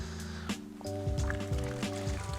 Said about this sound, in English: you're gonna take your mitt down in here and you're rubbing it against the grit guard